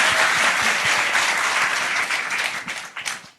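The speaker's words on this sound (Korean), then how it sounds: "한 번 더 박수를 드릴까요?" Audience applause at a Korean political talk concert on welfare, a dense, steady wash of many hands clapping that carries on for several seconds and then thins and fades toward the end.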